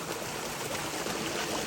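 A mountain stream on a hiking trail rushes in a steady, close, full wash of flowing water with no voices.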